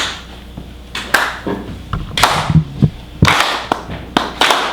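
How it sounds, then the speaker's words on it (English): Audience at a blues concert clapping along on the backbeat, sharp hand claps landing in a regular rhythm roughly every second, close and fairly loud, with low thumps between them. "you're clapping on the backbeat"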